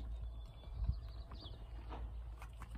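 Horse hooves clip-clopping on the ground at a ranch, a few soft, uneven thuds fairly close by, low and quiet under a faint outdoor background with no one talking.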